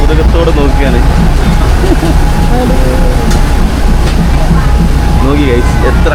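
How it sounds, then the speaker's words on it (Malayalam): A Thai train rolls slowly through a market, its loud rumble and rattling wagons steady throughout, with voices and crowd noise mixed in. "എത്ര അടിപ്പിച്ചിട്ടാ വണ്ടി പോകുന്നത് നോക്കി"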